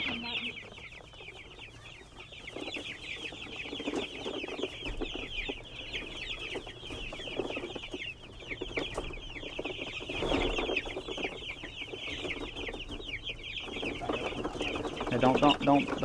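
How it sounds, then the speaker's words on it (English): Chickens clucking and squawking steadily near and far, a busy flock with overlapping calls and brief louder bursts toward the end. "chickens are trying to come out your way"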